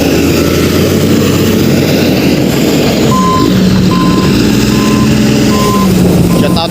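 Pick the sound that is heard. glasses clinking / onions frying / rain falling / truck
truck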